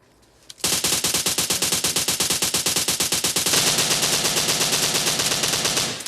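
Rapid automatic gunfire from a shooting video game, a loud, steady burst of closely spaced shots that runs almost unbroken for several seconds and changes character slightly partway through.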